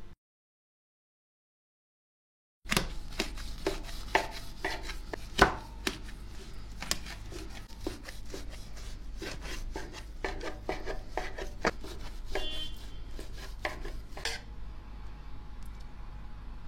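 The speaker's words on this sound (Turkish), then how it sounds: "Dinlendikten sonra dilimlere ayırıp servis yapacağım." Quiet, then a knife saws and crunches through a crusty loaf of pepper bread in steady repeated strokes, close up, with sharp crackling cuts and no talking.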